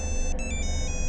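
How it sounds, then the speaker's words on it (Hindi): A mobile phone rings with an electronic ringtone, steady pulsing tones held close over a low background hum, brief and alone with no talk. "एक अर्जेंट फोन है।"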